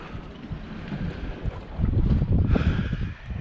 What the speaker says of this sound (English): Wind's blowing up a little bit, past 4